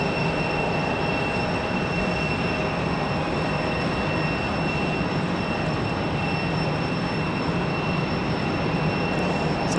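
A Republic Airways airliner arriving at Raleigh-Durham airport makes a loud, continuous broadband jet roar with a faint high whine, holding steady throughout with no talk.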